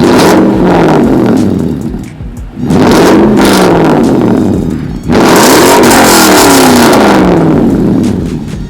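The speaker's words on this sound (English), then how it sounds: "I decided that the Borla exhaust wasn't aggressive enough, so I opted for a Muffler Delete" A 2014 Toyota Tundra Platinum CrewMax with a muffler-delete exhaust revs hard in several loud bursts, pitch climbing and falling between blips, close and unmasked with no talk.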